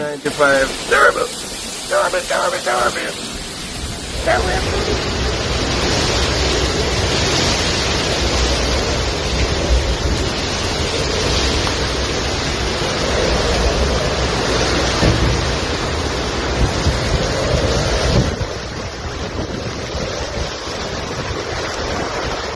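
Hurricane Melissa lashes Jamaica with winds near 230 km/h: a loud, unbroken roar of gusting wind and crashing surf buffets the microphone, with voices partly over it and a brief quieter lull at the start.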